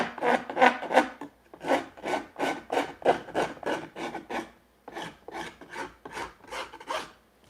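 A hand file rasps wood in a workshop in rhythmic push strokes, about a dozen close, loud scratchy passes with a short pause midway.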